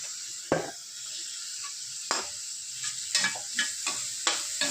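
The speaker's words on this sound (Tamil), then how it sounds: "வெங்காயம் இந்த மாதிரி வதங்கணும் இப்போ ஒரே தக்காளி எடுத்து வச்ச தக்காளியும் போட்டுக்கிறேன்" Onions sauté in a pan as tomatoes go in, with a low continuous sizzle under repeated close scraping and clinking strokes of a spoon stirring at a loose, irregular pace.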